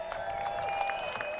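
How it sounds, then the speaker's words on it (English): Steady crowd applause at a rally, with dense, even clapping throughout, fairly loud and sustained with no pauses. "Let's give him another round of applause."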